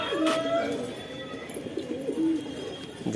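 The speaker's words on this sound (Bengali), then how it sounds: "এই আমার পায়রার কালেকশন।" Pet pigeons in a home collection coo softly just after feeding, several rolling calls repeating close by with faint rustling and no talk.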